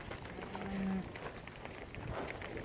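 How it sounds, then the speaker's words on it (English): A single low cow moo, fairly faint, rises briefly over a steady outdoor background hum with no voices. "It's just one of my cows."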